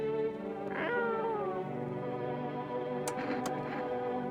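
A video game cat lets out a drawn-out, wavering meow up close, followed by a couple of short clicks and a softer trailing mew.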